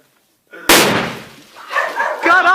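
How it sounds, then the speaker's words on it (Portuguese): A sneaker explodes in a bonfire, a sudden sharp loud bang after near silence that decays into crackling noise, followed by people reacting with voices. "Esse aí é a explosão de tênis, mano."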